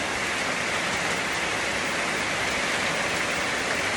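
Steady rain falling, a dense, even hiss that holds at constant loudness throughout with no breaks, voices or other sounds.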